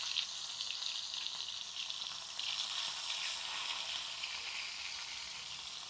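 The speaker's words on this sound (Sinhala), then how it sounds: "අපේ පොලොස් ටික මෙන්න මේ විදිහට අපි හොඳට මේක රන්වන් පාට වෙනකන් බැද ගන්න ඕන" Young jackfruit (polos) pieces fry in hot oil until golden, a steady, even sizzle with soft crackling that holds alone at moderate loudness.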